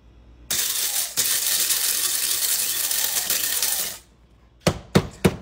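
A Tinker MOTW grinder works through 30 grams of coffee beans on a coarse setting: a loud, steady crunching grind for several seconds that stops abruptly, followed by a few sharp clicks and knocks.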